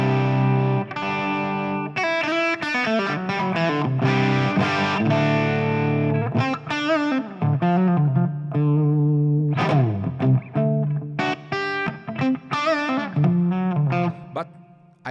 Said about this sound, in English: There is more distortion, the sound is warm.